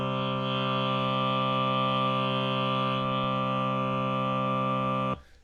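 A justly tuned, beatless chord of sustained pure tones rings steady and loud with no wavering, then cuts off abruptly near the end, illustrating just intonation.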